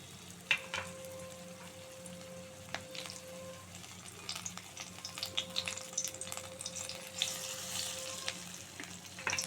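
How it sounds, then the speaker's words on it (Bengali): Onion fritters in gram flour batter fry in hot oil in a kadai, making a steady, soft crackling sizzle with occasional sharp clicks and pops throughout and no talking. "মেখে পেঁয়াজিটা ভেজে নেব।"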